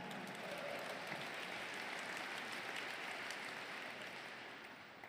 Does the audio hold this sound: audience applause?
yes